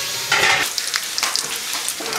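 Bacon hitting a hot carbonara pan, sizzling and frying steadily close by, with a louder burst near the start and crackling stirring throughout; no talk.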